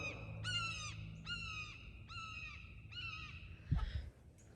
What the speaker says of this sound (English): Do y'all hear that bird? I don't know what's going on, but I think it's a chicken hawk.